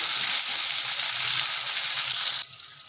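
Onions and tomato fry for biryani in a pan with a loud, steady close-up sizzle that holds evenly for about two and a half seconds, then drops to a quieter hiss.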